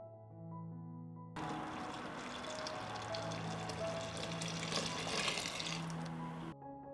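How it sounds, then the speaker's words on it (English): About two liters of water poured into a deep pan of peach juice, a steady splashing rush lasting around five seconds at moderate level. "Add 2 liters of water."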